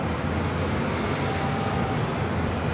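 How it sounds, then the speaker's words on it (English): A WestJet Boeing 737-800 departs LAX for Edmonton, its steady engine roar filling the air as a broad, constant rumble with no talk over it. "WestJet. Flight 1423 heading back to Edmonton, Canada in the 737-800."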